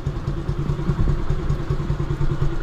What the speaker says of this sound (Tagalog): pinapainit ko pa lang muna yung makina